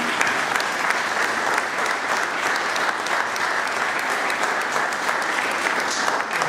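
An audience claps continuously at an award ceremony in Palazzo Sgadari, Mussomeli, dense sustained applause filling the room from start to finish with no break.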